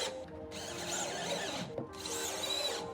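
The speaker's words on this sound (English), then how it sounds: "I'm gonna put screws in the back and the front to hold it in place" A power drill drives screws into a wooden trash can pullout tray, two close whirring bursts, each about a second long, separated by a short pause. No one speaks.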